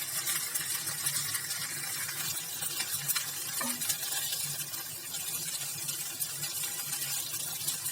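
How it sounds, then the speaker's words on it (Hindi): Bitter gourd being stirred with spices in a pan, a steady soft scraping and sizzling texture that runs evenly throughout with an occasional light clink of a spoon, close but quiet. "और इसको अच्छे से मिक्स कर देंगे।"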